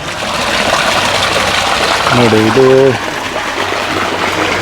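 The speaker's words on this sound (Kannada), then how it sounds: "ಇಲ್ಲಿ ಹೆಚ್ಚಿಗೆ ಇರೋ ನೀರು ಮೇಲೆ ಕಲ್ಯಾಣಿಯಿಂದ ಹರಿದು ಹೊರಗೆ ಹೋಗ್ತಾ ಇದೆ." Overflow water streams steadily out of a stone temple tank, a continuous close rushing flow heard throughout, with someone briefly speaking over it midway.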